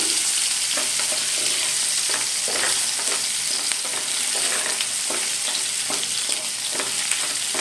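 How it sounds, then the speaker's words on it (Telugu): Green chilies, coriander and curry leaves fry in hot oil, a steady loud sizzle broken by regular scraping strokes of a spoon stirring the pan, close up with no voices. "కొత్తిమీర కరివేపాకు ఇవన్నీ కొద్దిగా ఫ్రై అవ్వాలి ఒకసారి మిక్స్ చేసుకుందాం"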